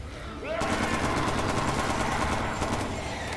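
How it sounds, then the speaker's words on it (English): Rapid machine gun fire in a video game, a dense, loud, sustained burst of shots with fast repeating cracks that continues for about three seconds. "machine gun."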